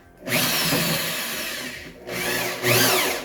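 A power drill whines steadily at close range, its pitch dipping briefly before it spins up again, grinding through a tube.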